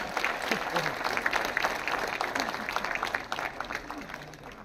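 Loud applause from a crowd at a cooperative bank diamond jubilee celebration, a busy burst of overlapping hand claps lasting several seconds and gradually easing off.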